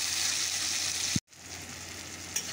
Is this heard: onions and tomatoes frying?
yes